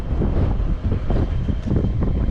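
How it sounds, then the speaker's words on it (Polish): Strong wind gusts across an open farm field where ground is being prepared for maize, buffeting the microphone in a continuous low, rumbling roar with no voices. "Wieje niesamowicie."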